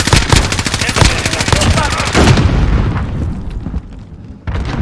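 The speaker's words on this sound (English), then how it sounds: "Throwing grenade" Grenade blasts and gunfire in a Call of Duty multiplayer match: loud, rapid automatic bursts mixed with booming explosions, the gunfire dense and close before thinning into a rumbling tail, then a final burst.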